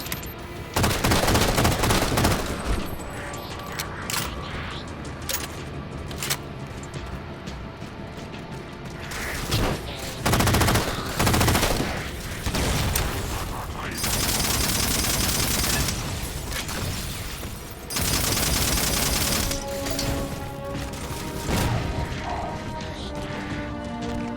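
Gunfire in Halo 4, with repeated bursts of automatic fire and heavy impacts coming in clusters over a long stretch, loud and close, separated by brief quieter gaps.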